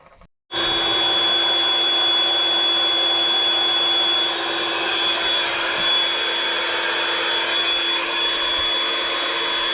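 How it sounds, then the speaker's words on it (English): Smoke machine running for a smoke test on a Polaris Sportsman ATV with High Lifter waterproofing, a steady loud blower whine with a constant hum that starts abruptly after a brief quiet moment and holds unbroken, close, with no talk. "let's hook up the smoke machine and see what's up."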